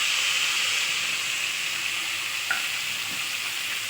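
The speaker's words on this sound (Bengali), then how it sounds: "এবার আমি দিয়ে দেব মশলা মাখানো যাবতীয় সব ভাজাটা" Spiced okra frying in a pan with lemon leaves, a steady loud sizzle and hiss throughout, with a brief stir partway through and no talk.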